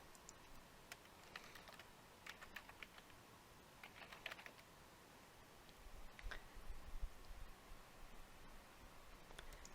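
Keys clatter in quick irregular bursts as a search is typed on a computer keyboard, close and fairly quiet over a faint room hiss, with a few louder clustered strokes near the end.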